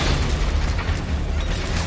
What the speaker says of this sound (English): he reloads automatically after each shotgun blast